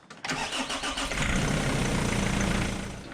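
A Nissan Navara D40 with a YD25 2.5-litre turbo diesel engine cranks briefly and fires up, then settles into a loud, close, steady diesel idle with a rough rhythmic clatter.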